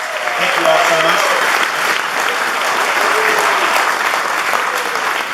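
Audience at a charity ball breaks into loud, sustained applause, a dense wash of clapping from a large crowd lasting several seconds, with a voice briefly speaking over it at the start.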